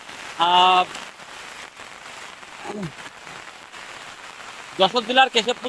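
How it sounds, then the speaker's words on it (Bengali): Heavy rain falling in a flooded village in Jashore district, Bangladesh, a steady soft patter throughout, with voices breaking in briefly at the start, middle and end. "এই যে বৃষ্টি"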